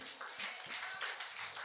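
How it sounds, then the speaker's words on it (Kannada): Congregation at a Kannada church service clapping loudly together, a dense sustained burst of applause filling the hall for a moment. "ನಂಬೋರು ಜೋರಾಗಿ ಚಪ್ಪಾಳೆ ತಟ್ರಿ."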